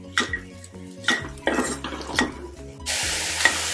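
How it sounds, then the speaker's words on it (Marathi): Jaggery melting in a pan for coconut rice, stirred with a metal spoon that scrapes and clinks in several strokes, then a loud steady sizzle toward the end. "1 मिनिट आपण त्याला परतवून घेऊ।"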